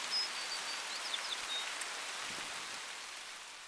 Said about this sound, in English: the rain's gonna make it harder